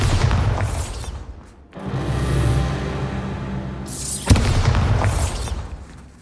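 Bombarda spell explosions in the Hogwarts Legacy video game: a loud, booming blast with a bright crackle, a rumbling middle stretch, then a sharp second detonation that rolls on, all close and without talk.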